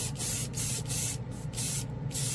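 Tamiya mixing paint sprayed over a mustard yellow base coat, a close hissing spray in several short bursts with brief gaps between them, with no voices.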